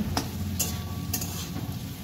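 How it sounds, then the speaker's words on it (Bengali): Soybean chunks being stirred and fried in a pan: a steady low frying rumble broken by three or four crisp scraping clicks of the spoon, close and moderately loud with no talking. "সয়াবিনটাকে আমি এর সাথে মিশিয়ে ভালো করে ভাজা করে নিচ্ছি।"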